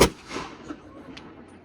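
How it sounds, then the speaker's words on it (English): One sharp, loud 6-pounder cannon blast opens the clip at a Fort Mackinac demonstration, then fades into a rumbling echo over open air. "There's your cannon shot to welcome you to Fort Mackinac."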